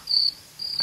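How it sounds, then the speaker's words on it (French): Two bursts of a cricket's shrill, steady chirping, made by rubbing its wing cases together, each lasting a fraction of a second with a short pause between, clear and close with no voices. "Dès le mois d'avril, retentit le chant des grillons. Il chante en frottant ses élytres l'un contre l'autre."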